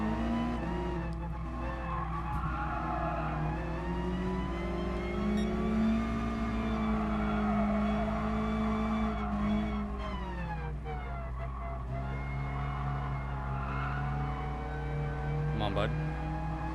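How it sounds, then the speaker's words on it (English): Tires squeal steadily through a Gran Turismo Sport race of Mazda Roadsters, with engines droning and whining up and down underneath, and a voice talks over part of it. "You hear everyone else's tires and mine squealing"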